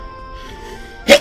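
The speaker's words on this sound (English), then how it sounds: "Oh, I gotta sneeze." A single short, sharp human sneeze bursts out at the end after a quiet lull, close and fairly loud over faint background music.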